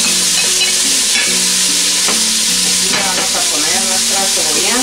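Tomato goes into a pan of frying chicken, giving a loud, dense, continuous sizzle close up, with scraping stir strokes and shifting spoon sounds throughout.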